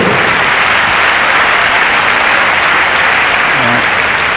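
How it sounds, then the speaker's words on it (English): Sustained, dense applause from a tennis crowd in Madrid fills the stretch evenly after a game in a men's match, loud and continuous with no pauses. "Got a round of applause there from David Beckham."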